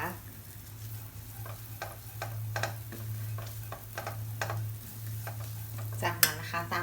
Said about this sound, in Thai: ผัดกระเทียมให้พอหอมนะคะ